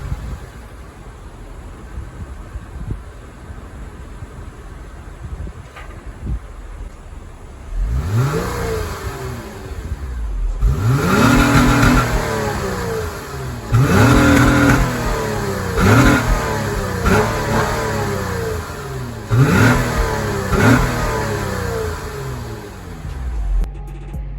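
A car engine idles, then revs hard in a series of five or six strong throttle blips spaced a few seconds apart, each climbing and dropping back, loud and close with no talking.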